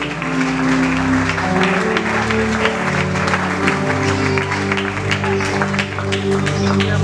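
Church congregation applauding together after a call to praise God during a service, a steady, dense wash of clapping with crowd noise and sustained music or organ tones underneath.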